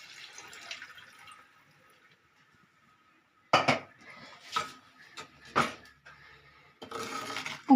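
A mixer jar is rinsed and its water poured into a simmering egg curry: a quiet stretch, then several loud sloshing splashes and clinks of the jar against a pan, ending in a steady pour.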